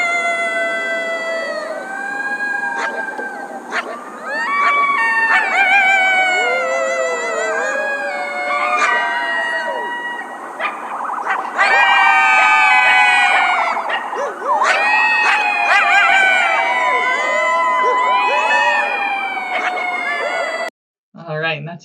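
Coyotes howling at night in a loud chorus of rising, wavering yips and wails, with a siren in the background, then a brief break before a few final calls.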